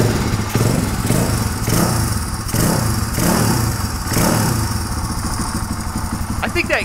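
Motorcycle engine running near and loud with a rough, uneven idle, pulsing rhythmically rather than climbing, on a bike with backfiring and erratic idle problems.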